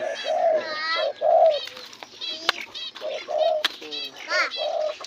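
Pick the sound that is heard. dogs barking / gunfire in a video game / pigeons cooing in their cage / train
pigeons cooing in their cage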